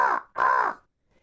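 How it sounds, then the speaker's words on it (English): A crow perched high in a tall tree gives two loud, harsh caws in quick succession, close and clear, with silence after. "Just alighting in the top of a tall tree was Blacky the Crow."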